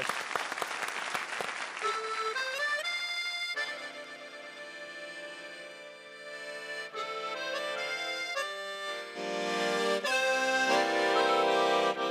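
An audience claps warmly to welcome performers onto a stage, steady applause mixed with rising music that swells toward the end.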